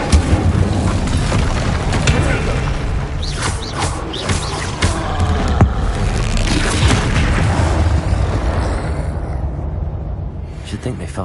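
Incendio fire spell blasts in the video game Hogwarts Legacy, rumbling booms and crackling bursts layered under in-game voices, loud and dense throughout.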